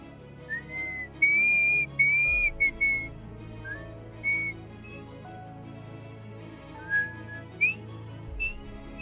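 A person whistles a tune in short melodic phrases with pauses between them, close and clear over a steady low background hum.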